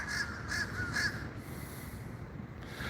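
A crow in The Villages, Florida, caws three times in quick succession, fairly close and clear, then falls silent against a soft outdoor background murmur.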